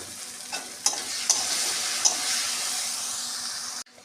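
Green peas fry in hot oil with spices, a steady close sizzle broken by a few sharp clicks of a spoon stirring against the pan, ending in a sudden cut.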